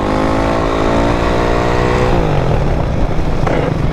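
A Honda CRF450X supermoto stunt bike revs hard in the woods, its engine climbing in pitch, then dropping and settling into rough loud running as it pulls a wheelie close by.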